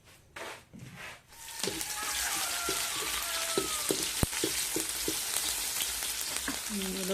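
Oil sizzling in a pan, heated for sautéing before squid goes in, a steady bright crackle with occasional pops and small taps of utensils, close and continuous after a quiet start.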